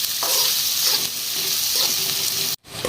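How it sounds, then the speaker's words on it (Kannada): Onions sizzle in hot oil over a high flame while being stirred for a dhaba-style paneer masala, a dense, close crackle with soft scraping pulses. It stops in a brief gap near the end, then resumes. "ಈ ಥರ ಎಣ್ಣೆಯಲ್ಲಿ ಮಿಕ್ಸ್ ಮಾಡ್ಕೊಂಡು ಹಾಯ್ ಆಗೋ ಉಳ್ಳಾಗಡ್ಡಿ ಒಂದ್ ಸ್ವಲ್ಪ ಲೈಟ್ ಗೋಲ್ಡನ್ ಬ್ರೌನ್ ಕಲರ್ ಆಗುತ್ತೆ ನೋಡ್ರಿ ಆ ತರ ಫ್ರೈ ಮಾಡ್ಕೊಳ್ಳೋದ್ರಿ"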